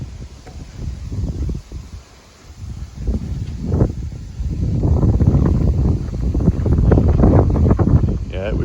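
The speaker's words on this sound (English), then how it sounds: "it was sure windy today" Strong wind buffeting a microphone outdoors beside a newly built 40 by 60 foot shop, rumbling in gusts that grow heavier and more sustained toward the end, with a voice talking partway through.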